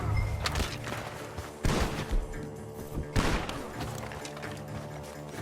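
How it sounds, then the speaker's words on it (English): Several loud gunshots from a barn in Red Dead Redemption 2 crack out at irregular intervals over a rumbling background, followed by echoing thuds, close and sharp. "The gunshots are coming from that barn!"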